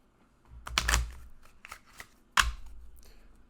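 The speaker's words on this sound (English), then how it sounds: "It's getting harder and harder to shuffle the smaller deck," A small deck of cards being shuffled in a couple of quick riffling bursts, with soft handling noises in between; close and fairly quiet.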